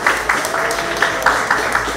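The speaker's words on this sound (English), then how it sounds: "Give them a lot of round of applause, no matter what." Audience applause at a junior calypso finals awards announcement, a short burst of rhythmic clapping with a steady beat, fairly loud throughout.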